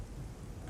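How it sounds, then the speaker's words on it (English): Steady rain hisses and rumbles on the Garry's Mod map GM_Construct_Rainy, a dense continuous wash with no talk over it. "There's rain everywhere in the world."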